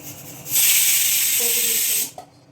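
A kitchen pressure cooker, heating while chutney is being made, lets out its whistle as a loud, steady steam hiss lasting about one and a half seconds before it abruptly cuts off.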